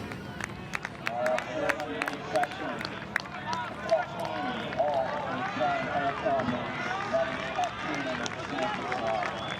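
Stadium crowd noise during a 10,000 metres championship race, a steady roar of cheering and shouting that swells and stays busy throughout, with a commentator's voice speaking over it.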